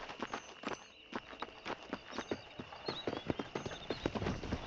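Horse hooves clip-clopping in Red Dead Redemption as a rider trots along, a steady, close run of sharp hoofbeats repeating without pause and heard alone.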